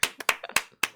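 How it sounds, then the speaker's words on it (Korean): A handful of quick hand claps, five or six sharp close slaps in a loose uneven rhythm over about one second. "박수"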